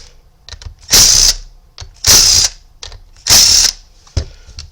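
T25 Torx screws are backed out of a random orbital sander pad in three loud, even mechanical whirring bursts about a second long, separated by short pauses with faint clicks.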